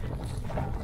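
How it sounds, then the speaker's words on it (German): Wind buffets an external microphone at a caravan campsite on Denmark's North Sea coast, giving a brief rough rumbling roar with no voices. "Wind ist wieder da."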